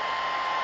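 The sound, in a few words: hair dryer drying a watercolour painting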